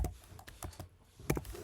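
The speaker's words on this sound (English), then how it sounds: "just typing them into Desmos" Computer keyboard typing while entering numbers into a graphing calculator website, a quick irregular run of light key clicks, close and moderately quiet, with no talking.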